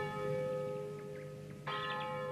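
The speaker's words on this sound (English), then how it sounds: "It's a school bell." A school bell ringing with sustained metallic tones that hold steadily, then swell louder near the end, in an animated film setting.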